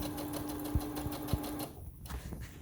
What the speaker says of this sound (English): So now my bobbin thread has run out and the machine will tell you that.